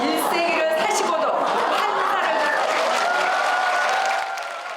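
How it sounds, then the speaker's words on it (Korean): A church women's association audience at a ceremony applauds and cheers as a 100-year-old honoree is introduced, loud sustained clapping and whoops with crowd chatter and laughter mixed in. "김옥나 여사의 나이가 소개되자 환호가 쏟아집니다"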